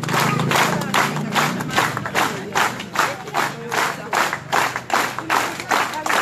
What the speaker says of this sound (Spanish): Nuevamente los aplausos.